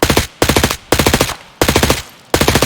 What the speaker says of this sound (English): I don't know if you noticed when I was firing and it didn't seem to hit.